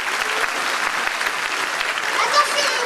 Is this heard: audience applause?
yes